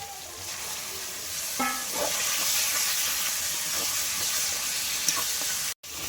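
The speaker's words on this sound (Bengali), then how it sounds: "মশলা থেকে তেল ছেড়ে দিয়েছে এখন মাংসটা দিয়ে দেবো" Goat meat goes into oily, well-fried masala in a pot, raising a steady broadband sizzle with a brief stirring scrape partway through and a short sharp click near the end, with no talking.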